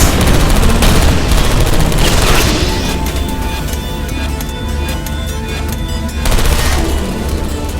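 Turrets in the video game Portal Stories: Mel unleash rapid, dense bursts of gunfire with booming impacts, loud and continuous, easing briefly before another burst.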